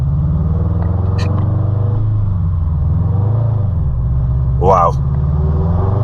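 A Subaru Impreza engine with a badly slipping clutch drones at low revs, its steady rumbling note wavering and rising briefly while a voice speaks over it.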